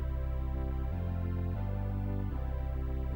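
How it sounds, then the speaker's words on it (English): An electronic organ holds a sustained string-ensemble tone, a steady, even hum that shifts to new chords about every second, with no voices. "That's the hum of string ensembles."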